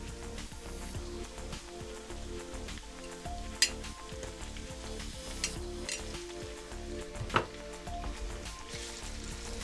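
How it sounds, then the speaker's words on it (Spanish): Bell pepper frying in a pan for Ecuadorian arroz con pollo gives off a steady, close sizzle throughout, broken by a few brief clinks of stirring. "Y ahí le ponemos el pimiento a freír."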